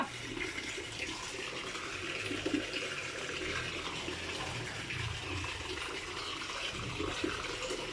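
Water rushing and pouring steadily as a catfish pond is drained and refilled during a water change, a continuous close wash of flowing water with no talk.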